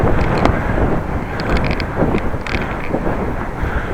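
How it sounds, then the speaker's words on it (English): Steady wind roars across the microphone while riding a Dutch bike, a continuous broadband rush with faint mechanical clicks and rattles mixed in. "Wind, the part that makes cycling hard when you have it head on."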